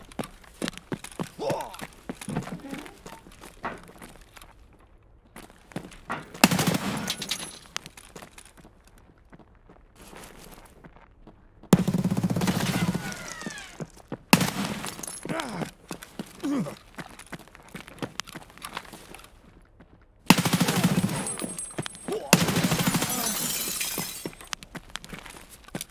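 Gunfire bursts from a firearm shooting through a wall in Escape from Tarkov come in several sharp, loud cracks and short volleys separated by quieter stretches of footsteps and movement, with occasional talk in between.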